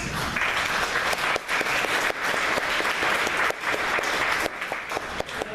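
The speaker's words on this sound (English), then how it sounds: "A round of applause." A crowd claps for a sign language interpreter and panelists at an evening speaking event, loud sustained applause with brief dips, continuing for over five seconds with no talk.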